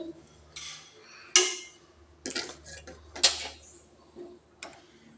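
Roasted vermicelli tipped into a pot for shavige payasa, giving quiet bursts of rustling and pattering with a few sharp metallic clinks spread across several seconds.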